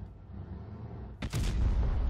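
Tank cannon firing in Tanks Blitz, a single sharp blast that cuts in abruptly after a quiet hum and leaves a booming low tail, with no talk over it.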